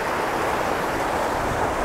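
Rushing water from a waterfall in a Cheviot valley, a steady broadband roar with no breaks, fairly loud and continuous, with no voices over it.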